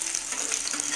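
Fish pieces frying golden brown in oil, a short burst of steady close sizzling hiss with no voices.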